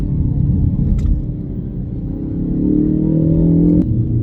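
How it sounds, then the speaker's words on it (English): A front-wheel-drive car accelerates hard out of a corner on a rural road at dawn, a steady engine rumble with a rising tone as it pulls away, heard from inside the car. "this front wheel drive just shoots you out the other end"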